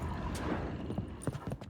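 Horse hooves clip-clop faintly in The Witcher 3 during a game scene, a few soft irregular footfalls under low ambient noise.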